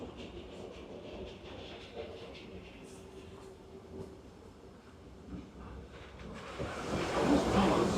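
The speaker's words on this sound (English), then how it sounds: "on Big Thunder Mountain, where I hear that mysterious spirits have grabbed hold of those mining trains" Big Thunder Mountain mining train roller coaster at Disneyland rumbles along its track with steady rail clatter and crowd noise, swelling louder near the end as the cars rush closer.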